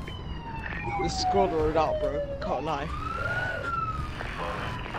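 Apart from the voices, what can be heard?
police car siren in the video game Forza Horizon 4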